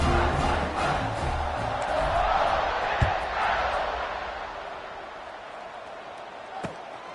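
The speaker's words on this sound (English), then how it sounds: "this crowd is feeling themselves after that last drive." A stadium crowd in the NCAA 26 football video game roars in a sustained wash of cheering that slowly fades, with a couple of sharp thuds breaking through.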